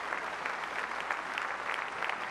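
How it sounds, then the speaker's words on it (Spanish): A church congregation applauds loudly during a service, a continuous dense patter of many hands clapping at an even level throughout. "Démosle palmas fuertes al Señor"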